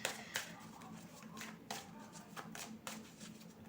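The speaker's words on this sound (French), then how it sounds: "je vais prendre mes petites cartes miroirs" A deck of small mirror oracle cards being shuffled by hand, quiet riffling and flicking bursts with light taps in between, close and soft, without talk.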